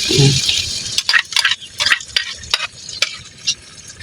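Steady sizzling of an egg frying in a pan, with repeated scraping and stirring clicks over the hiss, close and fairly loud.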